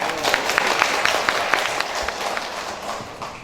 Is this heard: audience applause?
yes